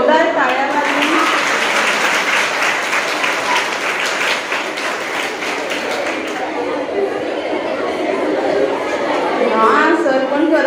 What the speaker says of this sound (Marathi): कांबळे सरांचं एकदा जोरदार टाळ्या वाजवा